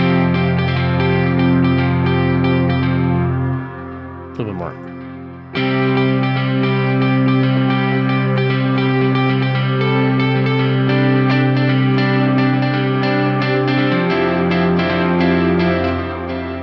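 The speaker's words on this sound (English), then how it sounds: "get some echo on that one" Sustained ambient synth drones shimmer with echo repeats, and a swooping glitch interrupts midway before the layered tones return. A voice briefly speaks over it.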